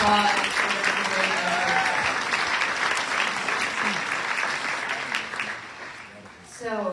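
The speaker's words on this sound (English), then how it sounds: "Round of applause for this great" Sustained applause from a crowd at a spring college commencement ceremony for graduates, steady and fairly loud throughout, thinning briefly near the end before picking up again.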